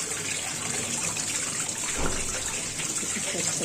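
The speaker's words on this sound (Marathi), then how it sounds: "एक एक खेकडे असं छानपैकी धुवून घेतले." Crabs being washed one by one under running water, a steady close rush and splash of water with a brief louder splash partway through and faint voices in the background.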